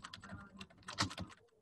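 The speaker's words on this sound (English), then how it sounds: "So I will show this by typing in" Rapid, uneven clicks of fingers typing on a computer keyboard, close and fairly quiet, with a slightly louder cluster of keystrokes near the middle.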